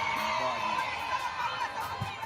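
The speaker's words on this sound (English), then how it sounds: "After a warm welcome for the duo in Trenchtown, this crowd greeting them with cheers" A crowd in Trenchtown, Jamaica cheers and whoops in welcome, a steady dense roar of voices sustained throughout.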